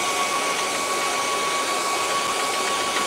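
A blow dryer runs over wet paint on the road area of a painting. It makes a loud, even, continuous airy whoosh that stays steady from start to end.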